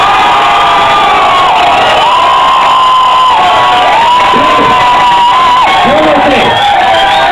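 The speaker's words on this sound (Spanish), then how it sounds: "Y por el príncipe gritaron todas." A crowd of women at a Halloween costume contest in Duitama, Boyacá shouts and cheers loudly and continuously, with high-pitched whoops rising and falling over a dense wall of voices.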